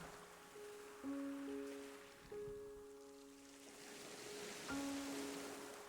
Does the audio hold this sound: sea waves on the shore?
yes